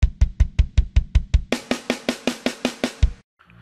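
Programmed drum loop from the Hertz drum sample library, with a steady run of evenly spaced hits, kicks first and then snare-heavy strikes at an even faster pace, loud, dry and machine-regular, ending in a brief silence.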